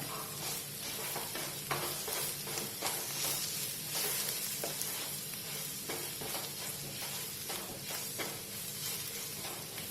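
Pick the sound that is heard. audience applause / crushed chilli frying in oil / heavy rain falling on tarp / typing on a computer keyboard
crushed chilli frying in oil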